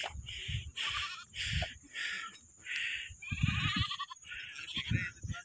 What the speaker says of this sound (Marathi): शेळ्या सुद्धा अशा प्रकारे इथं चरायला आलेल्या आहेत तोरणा किल्ल्यावरती